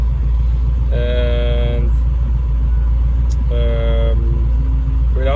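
Range Rover Classic fitted with a Chevy V8 idles with a steady low rumble, while two sustained horn-like tones sound briefly over it and someone speaks a word.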